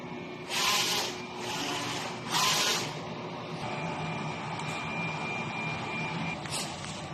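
A DTF printer runs a head clean and nozzle test, with two short bursts of whooshing mechanical noise at the start, then a steady whirring hum and a faint later burst, close by.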